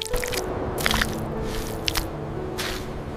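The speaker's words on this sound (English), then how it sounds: "Their large feet press into soft, muddy ground, leaving deep footprints behind." Large feet sink into soft, muddy jungle ground in wet squelching steps, several uneven squishes and drips, up close and fairly quiet.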